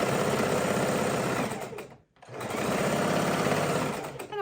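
A sewing machine stitches a row of quilt pieces in two loud, rapid bursts of needle chatter, split by a brief pause, with a faint whir underneath.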